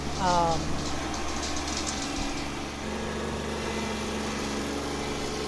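A small engine of a Kubota B2600 compact tractor runs steadily at close range, a low continuous rumble with some mechanical clatter and a brief higher whine near the start.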